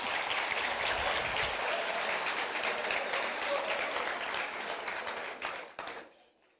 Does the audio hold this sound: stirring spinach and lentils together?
no